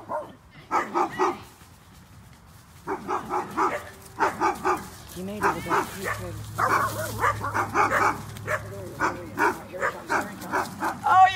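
A puppy yips, barks and whimpers in a rapid series of short high cries, close and loud, while a person talks over it.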